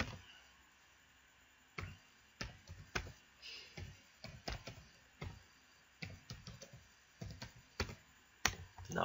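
Someone types a Python script on a computer keyboard: quiet, irregular keystroke clicks in short bursts over a faint background hiss.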